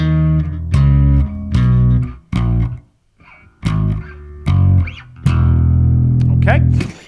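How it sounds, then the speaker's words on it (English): End section of a song's riff on a heavily distorted bass guitar: loud, punchy phrases separated by short gaps, ending on a sustained held note. "finally, we have this end section to the riff that sounds like this."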